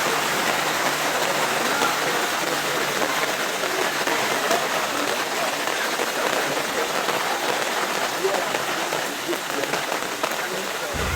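Heavy rain pours steadily during a flood in Pekalongan, a dense, continuous hiss of drops drumming on surfaces at close range with no pauses throughout.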